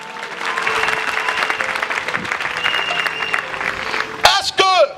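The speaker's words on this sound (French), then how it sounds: "Acclame le Seigneur Jésus." A church congregation applauds steadily with dense, sustained clapping and a faint hum of voices from the crowd, then brief cheers rise near the end.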